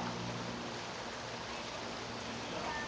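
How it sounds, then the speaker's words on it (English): Stream water flows steadily behind a fenced residential property, a soft continuous rushing wash at moderate level with no other sounds. "You sit outside and hear the water going."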